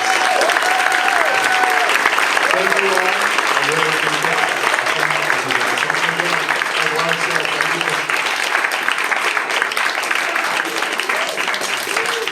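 Sustained applause from an audience for panelists at a roundtable event fills the whole stretch, dense and steady, while a person speaks briefly over it.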